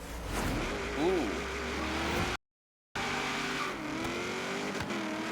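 A Chevrolet Chevelle race car in Forza Horizon 3 revs and accelerates with wheel spin, its engine droning with tire squeal layered in. The sound cuts out briefly midway, then resumes at a slightly lower pitch.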